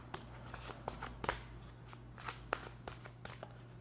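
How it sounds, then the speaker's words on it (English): Tarot cards being shuffled and pulled by hand: soft, close, quiet riffling and flicking with scattered crisp card snaps, set against a low steady hum. "I'm going to pull some high-level advice and guidance cards."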